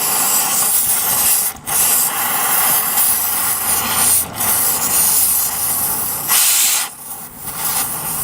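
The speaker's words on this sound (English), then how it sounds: "I'll torch some of them off too." A cutting torch hisses loudly and steadily while burning seat belts off a one-ton truck during a teardown, the broadband roar nearly continuous with a few brief dips and surges.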